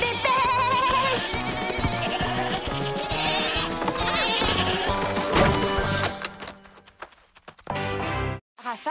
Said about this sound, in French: Allez les chèvres, on se dépêche.